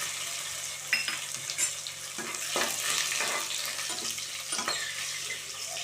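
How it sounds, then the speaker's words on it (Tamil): Finely chopped garlic sizzles steadily in a pan of hot oil with mustard seeds, cumin and chillies, while a spoon stirs it with intermittent scraping clinks, close and moderately loud. "15 பல் பூண்டு நைஸாக நறுக்கி வச்சுருக்கேன்,"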